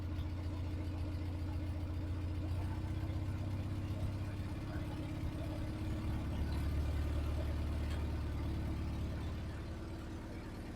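An old Farmall 140 tractor engine idles steadily while warming up, with a low, continuous rumble heard up close and fairly loud throughout.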